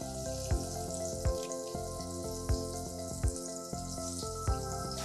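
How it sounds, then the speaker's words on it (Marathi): Coriander fritters (kothimbir vadi) shallow-frying in hot oil give a steady crackling sizzle, with soft periodic thumps and clinks of a utensil against the pan. "तेल तापलेलं आहे. आता आपण ह्या तळून घेऊया. मी शॅलो करते"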